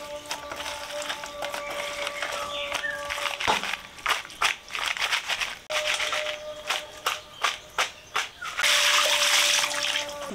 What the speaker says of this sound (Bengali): বেশ কয়েকবার ধুয়ে নিয়েছি, এবার লবণ দিয়ে আরো কয়েকবার ধুয়ে নিব।